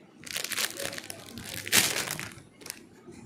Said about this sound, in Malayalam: ഞാൻ ഇത് അൺബോക്സ് ചെയ്യാം.